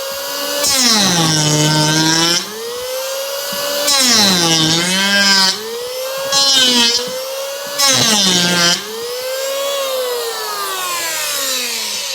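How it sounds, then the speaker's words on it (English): An electric power hand planer shapes wood for a DIY pleco breeding cave, its loud motor whining in several rising and falling bursts as the blade bites and releases, with short pauses between passes. "Don't ever set a power hand planer down until it stops moving the blade"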